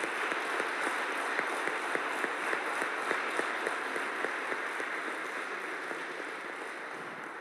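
A concert audience gives sustained applause after a Stabat Mater performance, an even wash of many hands clapping with a few sharper claps standing out, fading slightly toward the end.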